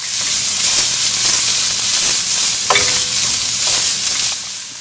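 Shiitake mushrooms sizzle loudly and steadily in a hot oiled wok, with a few scraping stirs of a utensil cutting through the constant frying hiss.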